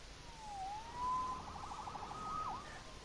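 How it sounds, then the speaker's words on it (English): Police siren wailing in the Spider-Man PS4 video game, a rising and falling tone that swells and fades over a few seconds against a low background rumble. "Saved by the siren."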